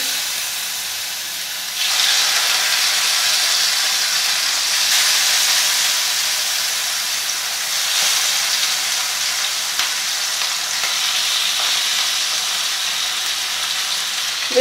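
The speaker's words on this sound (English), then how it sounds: "I'm adding around 2 to 3 tablespoons of mustard oil to shallow fry the fish" Fish shallow frying in a pan of hot mustard oil, a loud, steady close sizzle that jumps up sharply after a short quiet start and holds its hiss to the end, with no talking.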